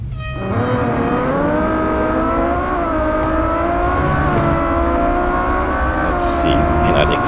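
Ferrari LaFerrari race car engine in the Real Racing 3 video game, a loud continuous high-revving drone with rising and falling pitch as it accelerates through gears, with brief tire squeal and crisp effects near the end.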